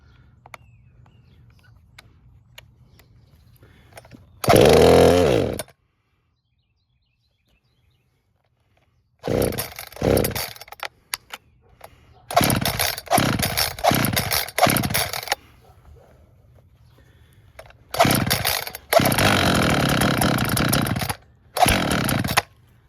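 An Echo CS-440 chainsaw with a suspected fuel problem is pulled and started on throttle, giving loud bursts of engine roar separated by pauses and sputtering revs, then running in longer close-up stretches.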